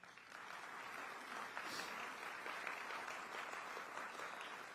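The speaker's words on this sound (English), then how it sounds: "Let's congratulate them with a round of applause" Round of applause from a large audience at an economic club luncheon, a thick continuous clatter of clapping filling the room, steady from start to finish with no speech over it.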